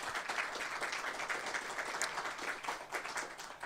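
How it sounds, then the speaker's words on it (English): A forum audience gives a round of applause for the panelists, heard as a dense, even patter of many hands, moderately distant and steady throughout. "Let's give them a round of applause."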